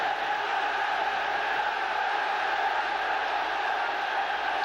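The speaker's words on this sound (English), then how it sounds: "just listen to how the crowd have responded to that" Football stadium crowd at a Champions League match reacting to a shot that narrowly shaves the post, a dense, steady roar of thousands of voices holding at full volume throughout.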